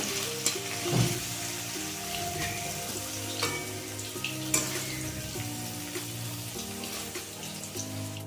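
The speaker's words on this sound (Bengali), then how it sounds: "পনির এটা একটু হালকা ভেজে নেব, খুব লাল লাল করবো না" Paneer pieces fry lightly in a pan with a steady close sizzle, broken by occasional scrapes and clinks as a spatula stirs and turns them.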